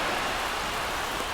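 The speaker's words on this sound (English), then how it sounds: "This rain is not letting up." Steady, dense rain falls across a baseball stadium during a Yankees–Royals game in MLB The Show 25, an even wash of hiss with no talk over it.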